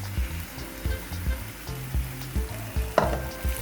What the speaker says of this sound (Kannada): ಈಗ ಒಂದು ಸ್ವಲ್ಪ ನೀರು ಹಾಕೋತೀನಿ ರೀ